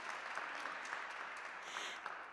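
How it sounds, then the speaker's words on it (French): Steady audience applause at a children's literature event, a crowd clapping evenly and continuously for a couple of seconds, with no voices over it. "ça mérite une petite main d'applaudissement avant que je les présente"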